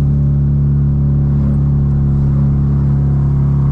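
Loud, steady low engine drone of a Corsa GSI 1.6 16V under heavy load at full throttle up a steep mountain road, a constant rumbling roar with a deep hum throughout.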